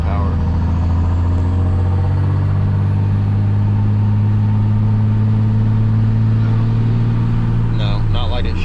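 A diesel truck engine is held at three-quarter throttle and runs as a loud, steady droning roar close by for several seconds, then eases off near the end, with voices faintly underneath.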